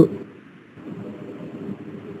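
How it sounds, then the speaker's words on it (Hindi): An electric fan roaring on an open microphone during an online class, a steady broadband rushing hum with no other sounds over it. "किसी का पंखा बहुत तेज चल रहा है ऐसा लग रहा है ना?"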